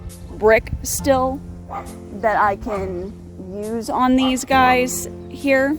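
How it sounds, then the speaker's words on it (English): A dog barks repeatedly in short yaps outdoors among raspberry bushes, the barks mixed in with someone talking steadily close to the microphone. "that's my dog barking at me"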